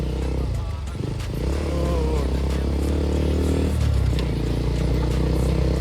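A KTM motorcycle engine runs just after the bike was pulled out of water, a moderate rough idle and rev with clattering over steady background rumble.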